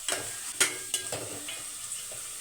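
Onions sautéing in a pan for a beans poriyal lunch, a steady sizzle broken by a few sharp scrapes and clatters of a spoon stirring against the metal, close and moderately loud with no talking.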